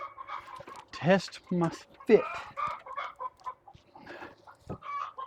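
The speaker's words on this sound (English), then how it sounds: "Noisy chickens." Chickens cluck and squawk repeatedly nearby at a barn, an uneven chorus of calls, with a person briefly talking amid them.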